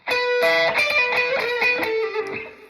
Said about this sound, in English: I'm using a bit of extra mega distortion, Boss mega distortion overdrive pedal